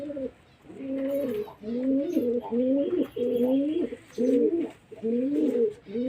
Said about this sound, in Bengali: পায়রা পুরো হাতে থাকছে না এত ছটপটে